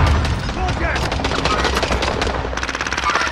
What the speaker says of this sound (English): why he's shooting above us